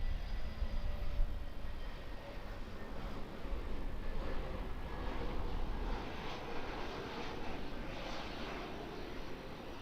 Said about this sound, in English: We've got the Jetstar A321neo in from Brisbane